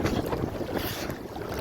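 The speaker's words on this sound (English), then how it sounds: "Why is it so windy?" Strong wind buffets the microphone aboard a small boat heading past the coast, making a brief, steady, rushing roar with no voices.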